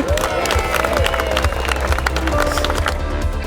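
Wedding guests applaud together, dense continuous clapping mixed with some cheering from a close crowd.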